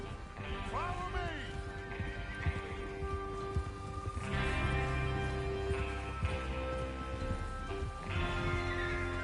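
Horses whinny and hooves clip-clop during a train-robbery ride-out in Red Dead Redemption 2, the neighs standing out over a dense, steady bed of music and ambience, with spoken lines partly heard.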